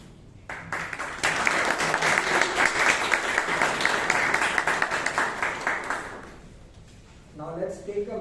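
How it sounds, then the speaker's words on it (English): Applause for the speakers and role takers at a Toastmasters club meeting in Bangalore: a few scattered claps, then a fuller burst of clapping that swells, holds and fades out, with a voice speaking at the end. "A big round of applause to all the speakers and all the role takers."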